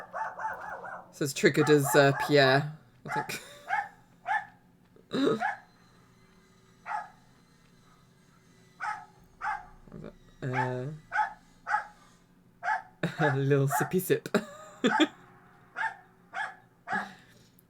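Neighbour's small yappy dog barking next door, sharp yaps in clusters and single bursts scattered throughout, with a person talking in between.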